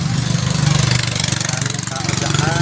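A motorcycle engine idles on a crowded street with a steady, pulsing, chugging beat close by, while people talk around it.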